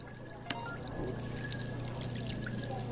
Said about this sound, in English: we fill up this water. It's gonna take forever.